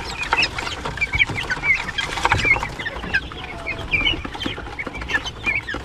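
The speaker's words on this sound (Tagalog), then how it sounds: "Tingnan nyo po yung mga ginya natin dito." Guinea fowl call on a farm: repeated short, harsh squawks and clucks from several birds, fairly close, over a rustling outdoor background.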